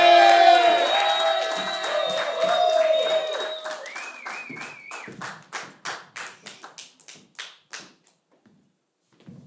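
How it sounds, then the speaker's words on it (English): A few studio audience members at a live late-night talk show clap in quick rhythmic bursts that thin out and fade to silence, with a brief voice and music early on. "Guys, get the round of applause going."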